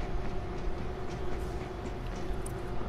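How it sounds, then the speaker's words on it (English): A train starting up in the video game World War Z, a steady, dense rumble with a sustained mechanical drone and faint clanks, close and continuous. "Get to the train controls and start it up!"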